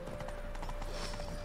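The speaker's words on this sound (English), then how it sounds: "Horse is out of control." Horse hooves clop rapidly in a steady galloping rhythm in The Witcher 3, a constant run with a faint whinny-like tone and a sustained hum behind.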